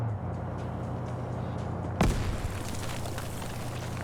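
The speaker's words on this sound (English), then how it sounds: "Throws a grenade in." A grenade explodes in a Vietnam War video game, one sharp, close boom cutting through quieter ambient noise and leaving a rumbling tail behind it.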